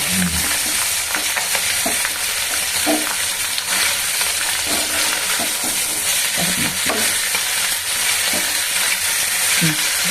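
Vegetables frying in a pan for a Bengali chorchori, a steady loud sizzle broken by repeated scraping strokes of a stirring spoon, with no talking.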